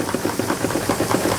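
Rapid rhythmic chuffing of a toy steam engine running steadily, regular puffs repeating several times a second, close and fairly loud.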